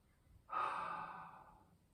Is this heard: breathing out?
yes